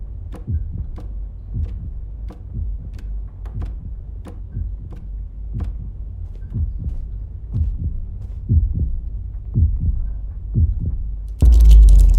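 Deep, regular heartbeat pounding from within a cabinet in a horror game, rhythmic thuds growing slightly louder and closer toward the end, ending in a sudden loud burst of noise.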